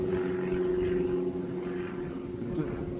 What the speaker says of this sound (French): Avoir un petit avion comme ça pour voir là-haut?